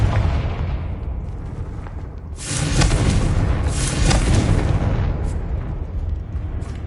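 Confringo spell explosion in Hogwarts Legacy, a deep roaring blast that swells suddenly over a low rumbling backdrop and holds for a couple of seconds before fading to a murmur.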